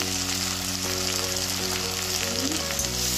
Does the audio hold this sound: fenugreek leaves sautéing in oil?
yes